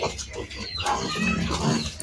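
Pigs grunting and snuffling in a farm pen at feeding time, where a sow is being separated from her piglets, a busy, close chorus of overlapping grunts that continues steadily throughout.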